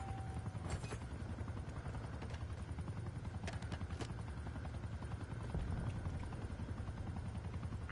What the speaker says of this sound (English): Enemy watchdog helo inbound.